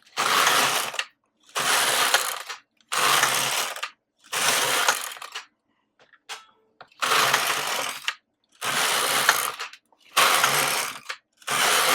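Knitting machine carriage sliding back and forth across the needle bed with yarn, loud rattling mechanical passes in a regular rhythm of about eight strokes separated by short silences.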